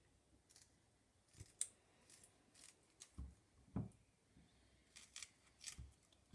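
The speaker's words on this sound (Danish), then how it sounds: "Så klipper jeg den lille finde, den har hernede lige bag ved gattet." Scissors snip the fins off a garfish while it is cleaned. About a dozen crisp, close, separate cuts come at an uneven pace over quiet background.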